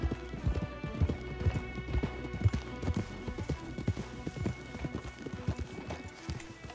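Steady clip-clop of horse hooves walking on hard ground in Red Dead Redemption 2, close and rhythmic, with a faint background hum.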